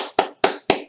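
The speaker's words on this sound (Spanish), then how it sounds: "Entonces dice Suwashasumida y se ponen a aplaudir." Close, crisp hand claps from a single participant ending a basic Korean language session, four sharp evenly spaced claps with short ringing tails in a quiet room.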